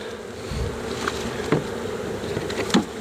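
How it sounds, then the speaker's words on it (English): Honey bees crowd the front entrance of a hive being moved into an Apimaye nucleus box, a close continuous buzzing hum with a few louder passes of individual bees flying by. "just how many bees there are on the front of this"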